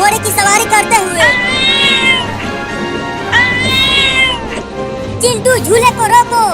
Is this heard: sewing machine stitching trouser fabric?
no